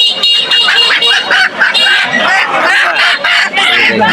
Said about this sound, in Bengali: পাশে প্রচুর হাঁস মুরগি